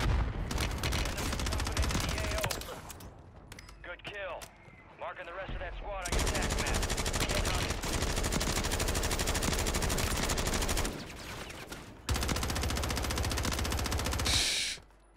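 Rapid bursts of Glock and Draco gunfire ring out in the Warzone (MW3) video game, loud, dense volleys broken by brief pauses, with a voice talking in between the bursts.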